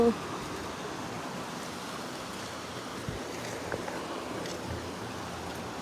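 A large river in a Nepali village, heard near a footbridge, rushes as a steady broadband roar throughout, close and fairly loud, with no clear speech over it.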